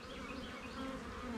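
Honey bees from a swarm, queens among the workers, buzz in a close, steady hum with slight wavering pitch, faint and without voices.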